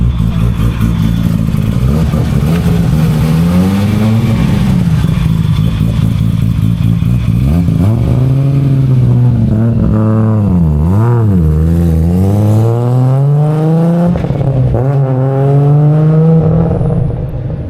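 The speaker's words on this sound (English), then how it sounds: "you can hear behind me his absolute wild R33 GTR" A Nissan R33 GT-R engine revs loudly and continuously nearby at a GT-R festival, its pitch rising and falling through repeated throttle blips with a rough, rowdy burble.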